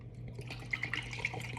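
Vinegar, about two cups, splashes and trickles into a bowl in a quiet kitchen, with soft drips and a faint low hum beneath.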